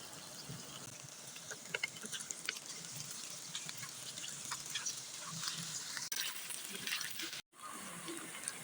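Okra (bhindi) fries in a pan over a medium flame, a soft, even sizzle with scattered crackles and pops, close but fairly quiet.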